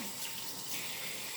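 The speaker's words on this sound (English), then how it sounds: "I'm gonna wash my hands." Running tap water pours steadily into a kitchen sink as hands are washed, a continuous close hiss with no talking.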